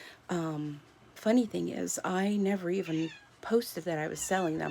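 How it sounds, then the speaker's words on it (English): A house cat meows in a home sewing room while someone talks over it, a few short mewing calls mixed into her steady speech. "And that's my cat."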